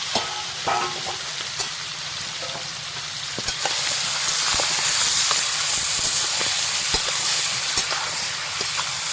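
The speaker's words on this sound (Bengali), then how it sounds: "ভাজা হয়ে গেছে মশলা ভালো করে, এবার মাংস দিয়ে দিচ্ছি উপর দিয়ে।" Steady loud sizzling of jungle fowl meat frying with spices in a hot pan, with occasional sharp crackles and the scrape of stirring, no voices.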